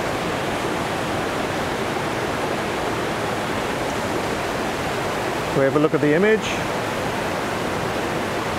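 A waterfall on Vancouver Island pours in a constant, even roar that fills the whole stretch, with someone briefly speaking over it near the end.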